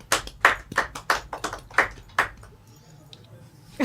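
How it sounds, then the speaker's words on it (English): A small group claps for about two seconds, a handful of sharp, close hand claps in a loose rhythm that quickly thin out and stop, followed by near quiet. "Round of applause for Dylan."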